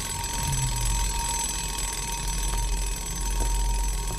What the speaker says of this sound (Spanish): Yo no sé si está sonando el despertador